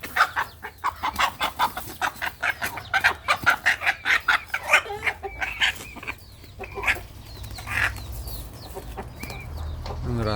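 Native chickens cluck in a quick rhythmic series close by, followed by scattered softer clucks and peeps from chicks, with faint human voices in the background.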